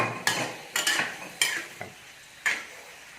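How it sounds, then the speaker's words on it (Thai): Squid and salted egg being stir-fried in a pan, with a spatula scraping and tossing in sharp repeated strokes over a steady sizzle, close and alone. "ผัดคลุกค่อยเข้ากัน"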